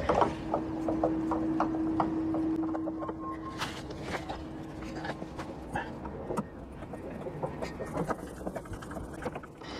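A Jubilee hose clip on a push-on hose fitting is tightened by hand beneath a van, giving close, rapid ratcheting clicks in uneven runs over a low mechanical background.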